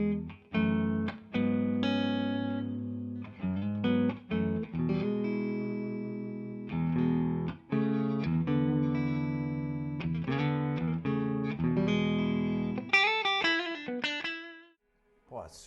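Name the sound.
Epiphone ES-339 PRO semi-hollow guitar, clean, coil-split neck pickup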